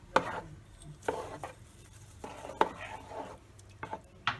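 A spoon stirs a spiced breakfast sauce in a pot, giving several soft, separate scraping knocks against the metal every second or so over a faint, quiet background.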